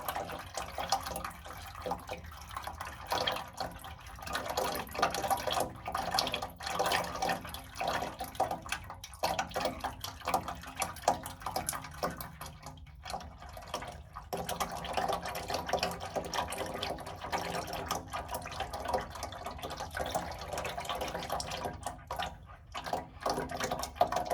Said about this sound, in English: we're just going to kind of let this drain down a little bit and see what it looks like